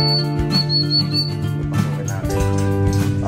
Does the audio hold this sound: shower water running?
no